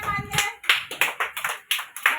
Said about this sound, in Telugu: క్లాప్స్ కొట్టున్నామా అందరూ?